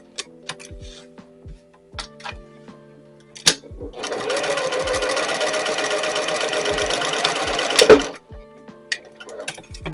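A sewing machine stitches a dress-shaped towel topper in one sustained whirring run of a few seconds, framed by scattered clicks and handling taps before and after.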